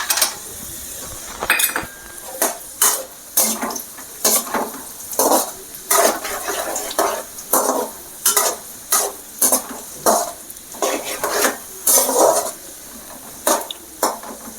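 Raisins and almonds fry in a pan for rava kesari under a soft sizzle, while a utensil scrapes and stirs in quick, regular strokes, over a dozen crisp scrapes in a row.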